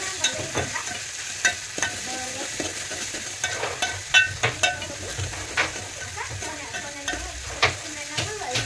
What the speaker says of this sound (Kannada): ಇನ್ನು 1 ನಿಮಿಷ ಫ್ರೈ ಆಗಲಿ ಫ್ರೆಂಡ್ಸ್.